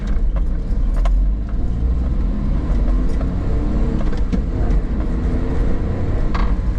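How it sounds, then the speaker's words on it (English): A Honda Life kei car with a four-speed gearbox pulls from a standstill up to about 40 km/h, its small engine droning loudly and steadily from inside the cabin with road rumble underneath. "this quick 0 to 40 kilometer pull felt pretty good"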